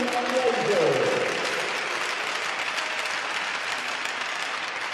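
A hockey arena crowd applauds for seniors at a senior night, a steady wash of clapping that fills the space, with an announcer's amplified voice briefly heard over it at the start.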